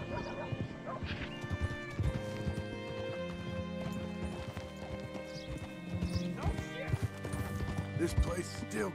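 Rhythmic clip-clop of horse hooves trotting along in Red Dead Redemption 2 under a layer of music and ambient game sound, with a brief whinny near the end.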